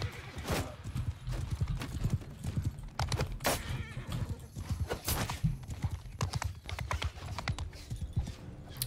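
Hooves pound in a fast, continuous clip-clop in Mount and Blade 2 Bannerlord, loud and close, with a horse's whinny and sharp clashing sounds over the galloping rhythm.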